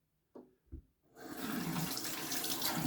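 Tap water runs over an Arkansas honing stone being washed with soap; after two faint knocks it starts as a steady, close rush of water that continues to the end.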